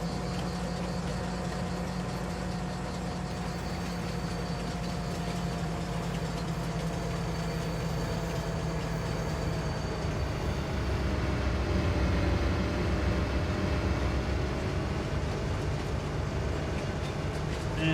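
A train engine in a farming game on an Italian map hums and rumbles steadily as it runs, a continuous low drone with sustained tones that swell slightly toward the end.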